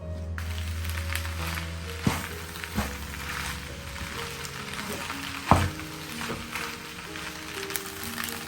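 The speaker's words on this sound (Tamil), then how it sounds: "அதனால் வந்து நான் குயிக்காக மிக்ஸ் பண்ணினேன். அதுக்கு சீஸ் அப்போ வந்து குயிக்காக மெல்ட் ஆகுற மாதிரி." Frozen cheese is stirred into a hot pan as it melts, giving a steady, close sizzle with a few louder scrapes and knocks from the utensil, and no talking.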